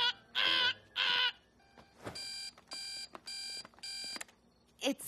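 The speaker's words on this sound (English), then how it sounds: "Don't you have a super annoying alarm clock that goes" An annoying alarm clock rings in several loud, evenly spaced bursts of harsh electronic beeping, following two short tonal blasts, with no talking.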